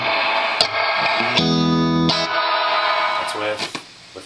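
An electric guitar plays through a vintage Polytone 102 amp, whose reverb knob is faulty but still works. Short notes give way to a strong sustained chord that rings out with reverb before quieter, scattered notes follow.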